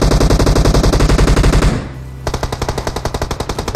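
Loud, close automatic gunfire in the PUBG Mobile battle game, rapid sustained bursts broken by a brief pause before another quick string of shots.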